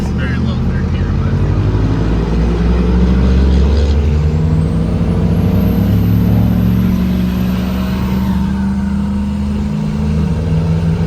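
Steady loud engine drone from a 1994–2002 Dodge Ram pickup held in very low third gear on Colorado roads, heard from inside the cab with continuous road rumble.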